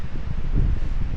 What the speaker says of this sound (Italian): Potente il vento.